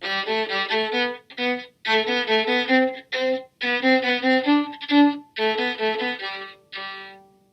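A solo violin plays a simple melody in first position in short phrases separated by brief pauses, each note clear and close.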